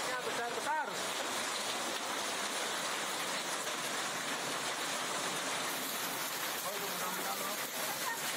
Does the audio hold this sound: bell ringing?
no